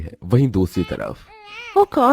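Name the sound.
baby crying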